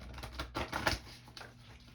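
Large tarot cards, bigger than the hand holding them, are shuffled close by in quick, clattering bursts of riffling and slapping card edges, with a few slower rustles trailing off at the end.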